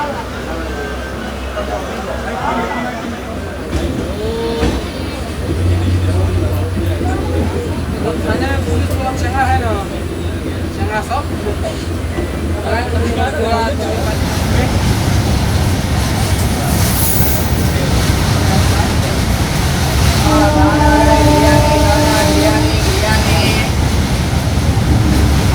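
The 12134 Mangaluru Mumbai Superfast Express rumbles along as heard from inside an unreserved general class coach, with a constant loud roar of wheels and rattling, brief metallic squeals, and people talking in the background.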